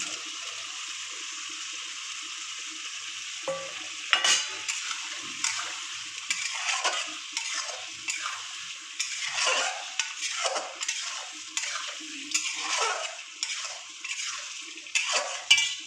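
Prawns drop into a pan of chingri malai curry sauce made with fresh coconut, with a steady bubbling hiss and irregular soft splashes and stirring scrapes, close, with no talk.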